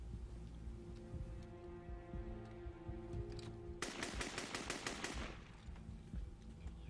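Rapid automatic gunfire bursts out as a hijacker shoots around inside an airliner cabin, a dense rattling volley lasting about a second and a half over a low rumbling dramatic background, fairly quiet overall.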